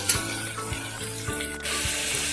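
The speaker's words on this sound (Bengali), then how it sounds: "একটু পেঁয়াজটাকে ফ্রাই করে নেবো প্রথমে।" Onion sizzling and frying in a little oil in a pan for a fish curry, a steady close hiss with occasional stirring clinks and scrapes, no talk.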